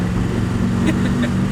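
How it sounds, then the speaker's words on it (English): Turbocharged TVR sports car engine droning steadily up close, with a brief rising whistle-like turbo note on top of the constant low rumble. "a massive turbo, do you hear it?"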